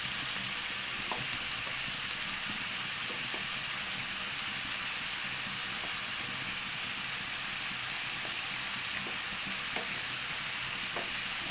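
Eggs frying steadily in a home kitchen pan over a lowered flame, a continuous soft sizzle with faint scrapes of stirring, close and even throughout, with no talking.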